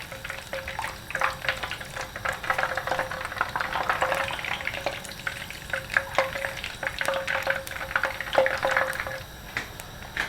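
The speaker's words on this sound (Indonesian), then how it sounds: "ini kacangnya sedang kita tiriskan ya, jadi kita aduk-aduk" Fried peanuts and lime leaves are stirred in a pan while the oil drains, giving a steady oily sizzle with frequent scraping and clinking of the spoon, close and continuous without voices.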